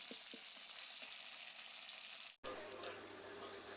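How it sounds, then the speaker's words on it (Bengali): Cumin and ginger paste sautéing in a pan for a duck egg curry, a steady close sizzle and frying hiss with a few faint stirring clicks, briefly cut near the middle before continuing. "একটু ভাজা হয়ে যাওয়ার পরে জিরা আর আদা বাটাটা দিয়ে দিব বন্ধুরা। এখন এটাকেও কিছুক্ষণ কষাতে হবে।"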